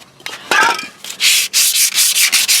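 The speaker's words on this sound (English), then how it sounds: "I'm under here cleaning up the K member." Close, harsh scrubbing strokes beneath a third-generation Camaro as its rusty K-member is cleaned, coming in repeated rhythmic bursts after a few brief knocks.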